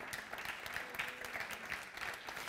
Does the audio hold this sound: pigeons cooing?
no